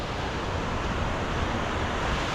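Ocean waves wash steadily onto a beach at Sihanoukville, Cambodia at low tide, a loud, continuous broadband surf roar mixed with wind noise across the microphone, with no voices.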